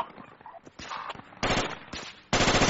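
Gunfire in the Project Reality military shooter game, bursts of rapid automatic fire at close range, the loudest sustained burst at the end, with muffled background noise between bursts.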